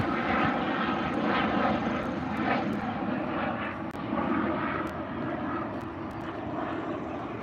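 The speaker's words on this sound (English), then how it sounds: "We have a care flight helicopter going by." A care flight medical helicopter from the local hospital passes over Cox Arboretum, a loud, steady engine and rotor drone that fills the air continuously with no speech.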